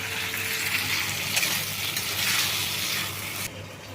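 Spices and rohu fish fry in a pan, giving a continuous close sizzle with crackling, brief stirring clatters and a slight drop in loudness near the end.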